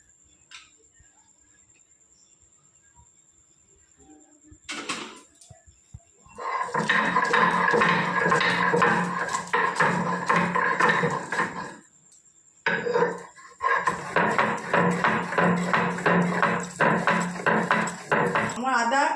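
Ginger and garlic ground into paste by hand, giving a steady run of loud scraping, knocking strokes that stop briefly midway and then resume just as hard, with no talk.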